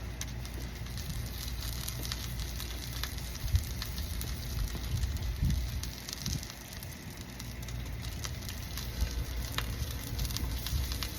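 Butter sizzling over a wood fire for a steak dinner, a steady crackling hiss with soft popping and spitting, close and constant, no voice heard.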